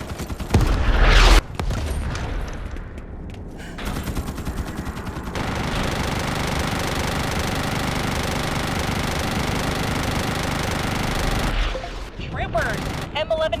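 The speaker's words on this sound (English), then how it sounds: "plasma bombardment. Expect casualties." Plasma bombardment in the Starship Troopers: Extermination video game, heard as a loud opening blast and then a sustained, dense rumble of explosions and rattling fire that fades near the end, with a voice heard briefly.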